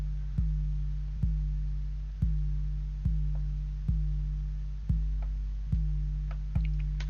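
A low bass note repeats steadily about once a second, each hit starting sharply and fading slowly, alone and without any voice.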